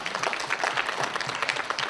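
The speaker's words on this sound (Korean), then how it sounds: "로건 교수님께 박수 한번 부탁드리겠습니다" A talk-show audience at a high school fashion event claps for a professor, producing a brisk, continuous patter of many hands at moderate loudness with no voices over it.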